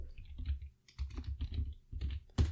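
Several computer keyboard keys tapped close up in quick, irregular clusters, including a Ctrl shortcut and an Enter press, with soft clicks and short pauses between bursts.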